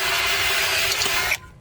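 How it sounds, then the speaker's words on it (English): A drill running steadily while drilling out rivets from a factory oil pan gasket on an LSx engine, a continuous close whirring hiss that cuts off abruptly near the end. "drilling out the rivets that are on the factory oil pan gasket"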